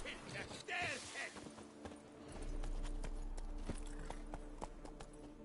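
Horse hooves clop along steadily in The Witcher 3, a continuous rhythmic gait under a game soundscape, with a voice briefly audible early on.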